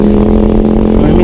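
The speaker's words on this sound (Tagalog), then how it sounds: "nakakarinig na naman ako ng tambutso." A motorcycle's exhaust rumbles close by in a brief, loud, steady burst with a throaty low tone.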